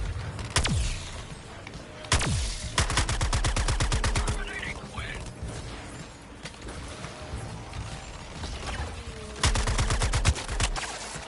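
Loud, close bursts of game gunfire from a Suicide Squad: Kill the Justice League battle against snipers, with sharp single shots and rapid rattling volleys repeating through the scene, plus scattered voices under the noise.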